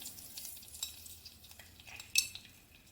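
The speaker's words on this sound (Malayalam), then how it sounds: "നമുക്കിനി അതിലേക്ക് നമ്മൾ അരിഞ്ഞു വെച്ച വെളുത്തുള്ളി ഇട്ട് കൊടുക്കാം." Chopped garlic dropping into hot oil with browned fenugreek seeds for a starfruit curry, giving a faint steady sizzle with light utensil clinks and one sharper scrape of a spoon against the pan.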